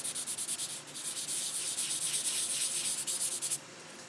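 Fine sandpaper is rubbed lightly over the clear coat of a 1/24 scale model car body, wet sanding in quick, soft, rhythmic back-and-forth strokes, close and faint, before the motion stops.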